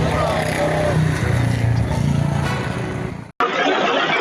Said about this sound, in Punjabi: ਤੁਸੀਂ ਦੇਖ ਸਕਦੇ ਹੋ ਕਿ ਜਿਹੜਾ ਟਰੈਕਟਰ ਮਾਰਚ ਹੈ ਕਿਸਾਨਾਂ ਵੱਲੋਂ ਵੱਖ-ਵੱਖ ਜਥੇਬੰਦੀਆਂ ਵੱਲੋਂ ਕੱਢਿਆ ਜਾ ਰਿਹਾ ਹੈ